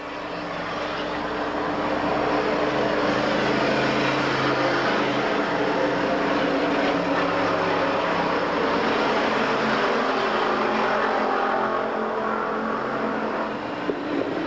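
Stock race cars roaring around an oval track during a 150-lap enduro, a loud, sustained blend of engines with steady droning tones that swells and dips slightly as cars pass, with no talk over it.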